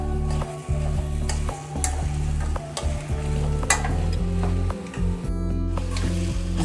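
Mutton sukka fries in a pan with a steady sizzle, broken by repeated scraping and clinking strokes of a spatula as the meat is stirred, close and continuous.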